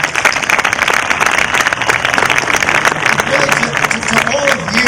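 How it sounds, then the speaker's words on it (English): A large graduation ceremony audience gives sustained applause for Dr. Johnson at a 2021 high school commencement, dense steady clapping throughout with some crowd voices mixed in. "let's give a big hand of applause to Dr."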